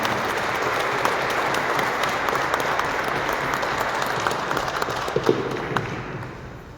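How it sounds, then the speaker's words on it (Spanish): A church congregation applauds at Sunday Mass, steady broadband clapping from many hands filling the room, sustained and even before tapering off near the end. "vamos a darle un aplauso a Valeria, hoy que ha renovado su compromiso bautismal"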